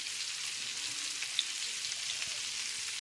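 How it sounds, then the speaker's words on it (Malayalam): Ginger, capsicum and onion fry in hot oil for beef dragon, giving a steady, even sizzle that crackles softly throughout without pause. "രണ്ടാമത് ക്യാപ്സിക്കം ഉള്ളി ഇട്ടോണ്ടിരിക്കുന്ന"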